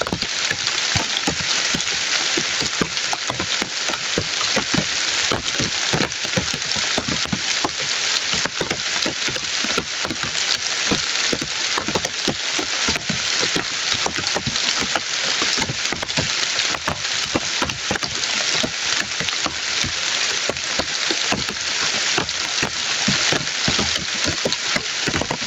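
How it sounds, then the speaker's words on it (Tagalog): Steady rain falls throughout, a dense continuous hiss of drops on surfaces with no pauses, loud and close with no voices. "Ito ulan mga idol."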